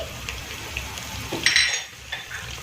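Onions and bay leaves frying in hot oil for Bangladeshi pulao, a soft sizzle with scattered utensil clinks and scrapes, one louder burst of spitting in the middle.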